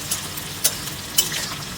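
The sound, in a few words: frying onions for beresta in oil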